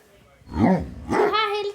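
A dog in Minecraft gives two short barks or yips, close and clear, one after another with a brief gap between them.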